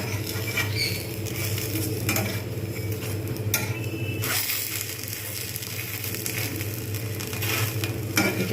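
Patishapta pitha batter frying in a pan, giving a loud, steady sizzling hiss with fine crackles that continue without a break.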